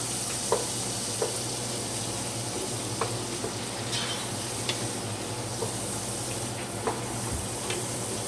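A wooden spoon stirs black pepper-coated food in a pot, giving soft scrapes and sporadic clacks over a steady sizzle and hiss of frying, close and moderately quiet throughout.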